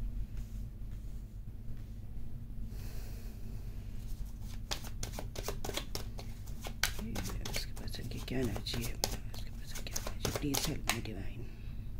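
Tarot cards shuffled by hand, a quiet hiss at first, then a run of crisp riffling flicks and slaps, close and fairly loud, with a steady low hum beneath.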